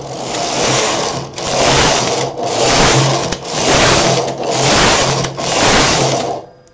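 A knitting machine carriage is pushed back and forth across the needle bed for the first rows of cables, each pass a loud, steady whirring rasp, six strokes in a regular rhythm separated by brief pauses.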